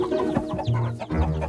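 Chickens in an animated children's cartoon cluck in quick, overlapping bursts, close by and fairly loud, with several birds calling over each other.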